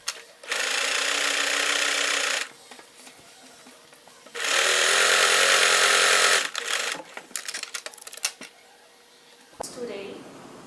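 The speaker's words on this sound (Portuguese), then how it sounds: "aí eu vou costurar assim e eu volto para mostrar" Sewing machine stitching a skirt seam in two steady motorized runs of about two seconds each, close and fairly loud, separated by handling noises and someone speaking between bursts.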